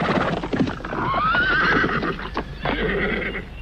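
Horses neigh and hooves clip-clop in a radio drama sound effect of a cavalry troop halting by a monument, with one rising whinny over steady, close hoofbeats and no talk.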